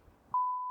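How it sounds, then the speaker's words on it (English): A steady, pure-toned censor beep cuts in abruptly after a murmur of speech during a jiu-jitsu discussion, holding loud and unbroken to the end of the short clip. "We'll have to beep that out"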